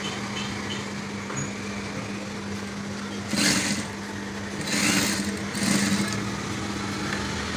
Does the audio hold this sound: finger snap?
no